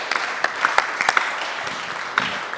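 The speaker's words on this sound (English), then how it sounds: "Give yourselves a round of applause as well." An audience at a tech conference session gives a short round of applause, steady clapping with a few sharper claps standing out near the front, lasting a couple of seconds.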